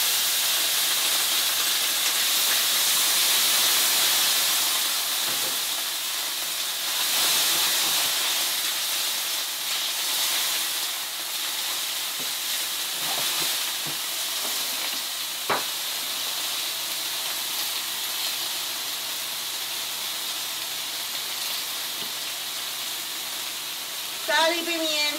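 Onion fries in hot oil in a pan with a loud, sustained sizzling hiss that slowly eases, close up, broken by a couple of brief utensil clinks near the end.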